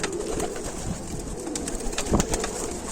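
Several black Ukrainian game pigeons coo nearby, overlapping low rolling calls with a few rustles and wing flaps, continuous and moderately loud.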